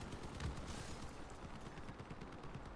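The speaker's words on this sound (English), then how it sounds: "That is just a light machine gun." Light machine gun on a vehicle in Crossout firing a rapid continuous burst, faint and distant-sounding, rattling steadily under low background noise with no speech.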